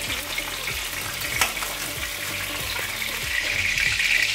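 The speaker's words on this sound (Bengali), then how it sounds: "এবার পটলগুলো খুব ভালো করে ভেজে নেব" Pointed gourd (parwal) pieces fry in hot oil in a pan, giving a constant crackling sizzle with small pops and a few scraping stirs, steady and close, with no talking.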